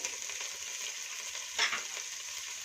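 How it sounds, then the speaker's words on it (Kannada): Chopped coriander leaves frying in oil, a steady close hiss of sizzling with a brief louder crackle and scrape of stirring partway through, and no talking. "ಇದನ್ನ ಸ್ವಲ್ಪ ಫ್ರೈ ಮಾಡ್ಕೊಳ್ಳೋಣ ಎಣ್ಣೆಲಿ"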